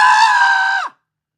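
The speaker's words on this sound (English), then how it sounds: "Above her, the screaming continued" A man lets out a single loud, sustained scream lasting under a second, holding a steady pitch before cutting off with a brief downward drop, followed by silence.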